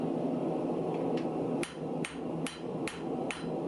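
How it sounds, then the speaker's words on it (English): Hammer blows on a copper and steel mokume gane billet being forged toward thickness, about five sharp metallic strikes spaced roughly half a second apart after a steady background hum. "Then we're going to go ahead and just keep forging to the actual thickness that we want."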